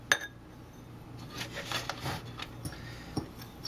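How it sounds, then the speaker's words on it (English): A spoon stirs a dry spice mix of cloves, cinnamon and cumin in a bowl, giving soft, close scraping and light intermittent clinks against the bowl with no talking. "And then stir."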